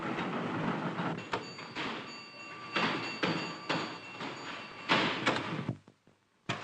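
Trains at London Waterloo station in 1944, a moderate stream of rattling, clanking carriage and door noises with rhythmic clicks and a brief hiss, sounding from close by before tapering near the end.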